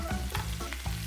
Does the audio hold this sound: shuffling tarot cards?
no